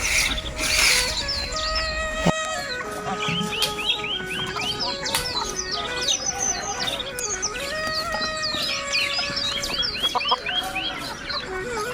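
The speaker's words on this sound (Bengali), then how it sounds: "সে শীতের দিনে মুরগি অনেক দেরি করে ছাড়া হয়" Chickens in a village yard on a foggy winter morning, clucking and squawking in a busy, overlapping chorus at close range, with small birds chirping among them.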